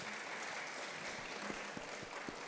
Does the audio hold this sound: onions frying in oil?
no